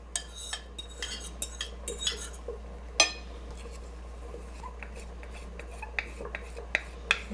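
Utensils clink and scrape against a pot as egg, wine and cheese are stirred into carbonara pasta, a close run of irregular metallic taps with one sharper knock.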